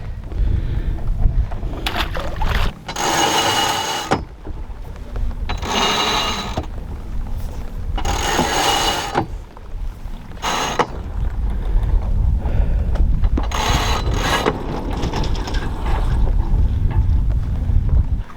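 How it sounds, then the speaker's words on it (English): Wind gusts over a boat at anchor in Alaska's Inside Passage before sailing off downwind, steady broadband rush with repeated louder gusts swelling and fading, no talk. "The wind's blowing directly over the top of the anchorage and it's just a nice clean downwind."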